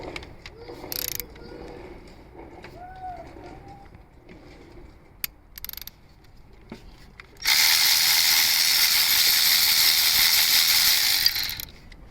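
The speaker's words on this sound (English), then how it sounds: "we're gonna remove this 10 millimeter here" A ratchet works a 10 mm bolt on a 2005 Acura TL engine during an engine swap. A few faint clicks come first, then a loud, close, continuous ratcheting run lasting about four seconds.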